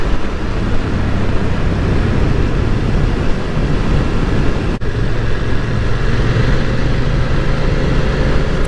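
A BMW F900R motorcycle engine pulls hard on the throttle during an overtake without a downshift, a loud, steady roar heavily mixed with wind rush, its note climbing in pitch through the second half, with no voices.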